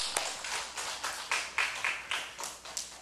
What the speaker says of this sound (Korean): 하나님께 영광의 박수 드리겠습니다